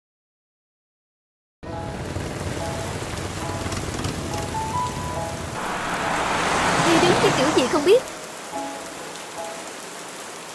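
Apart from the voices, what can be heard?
heavy rain during flood days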